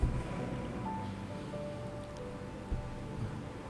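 A strong wind gusts in a steady, noisy rush with a couple of brief louder buffets, filling the background and heard alone without voices.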